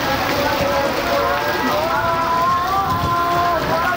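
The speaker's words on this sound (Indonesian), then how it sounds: "hujan parak-parak mas" Heavy storm rain pours down in Bondowoso, Indonesia, a dense unbroken roar of falling water with voices chanting and praying over it.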